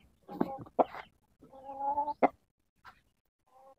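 A Japanese Shamo rooster clucks close by in a short burst of throaty calls, then gives a longer, more tonal drawn-out cluck and a few fainter trailing clucks, with quiet gaps in between.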